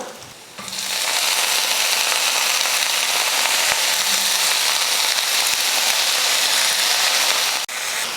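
Vegetables hit hot oil with sautéing onion in a pan while making kuzhambu, bursting into a loud, steady sizzle that holds close and constant for several seconds before a sharp clatter near the end.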